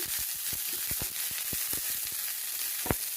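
Curry leaves and onion sautéing in a pan for raw banana kola urundai, a continuous close sizzle punctuated by sharp spatula scrapes and taps against the pan.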